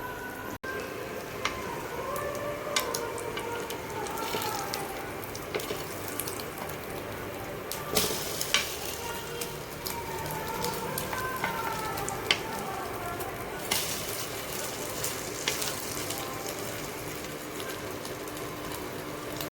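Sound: food frying in a pan

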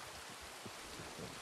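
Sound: rain in the video game Red Dead Redemption 2

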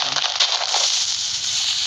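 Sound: explosion in a video game

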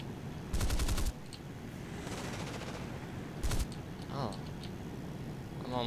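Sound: aircraft cannon firing in flight combat video game

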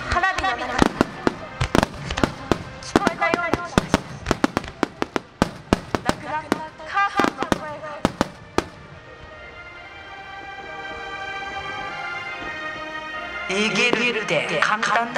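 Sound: fireworks exploding

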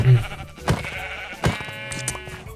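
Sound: sheep bleating in Minecraft video game

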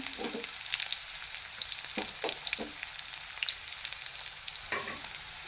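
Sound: curry leaves sizzling in oil in a pan

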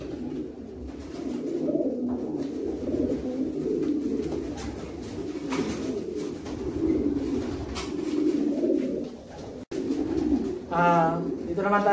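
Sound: long-distance racing pigeon hen cooing

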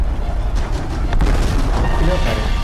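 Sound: explosion in video game Tomb Raider

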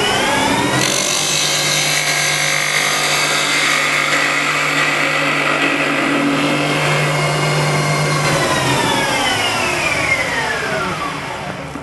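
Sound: spindle gouge cutting wood on a lathe

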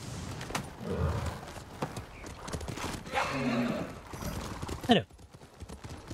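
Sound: horse galloping in video game Ghost of Tsushima

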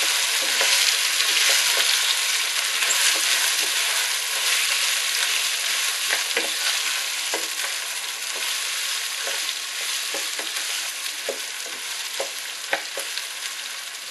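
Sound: rice being toasted and stirred in a pan

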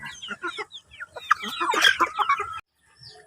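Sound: chickens clucking

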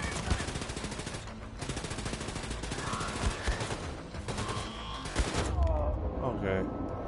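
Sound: gunfire from a gun in the video game Wolfenstein II

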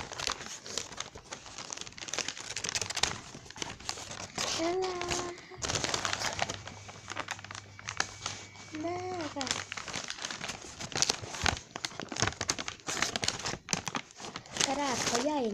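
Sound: paper crumpling while unwrapping a parcel

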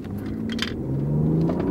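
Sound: BMW inline six-cylinder car accelerating on drag strip

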